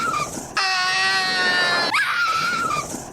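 An animated character in the anime Tenkuu Danzai Skelter+Heaven lets out a loud, sustained, high-pitched scream lasting over a second, bracketed by shorter whining cries.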